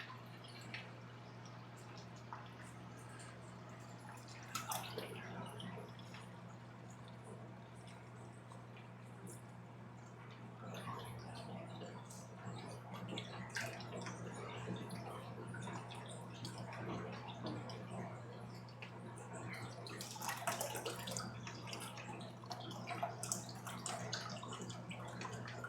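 Hygger 955 electric aquarium gravel cleaner running in tank water, a steady low motor hum under soft, intermittent gurgling and splashing that swells near the end, with no talk.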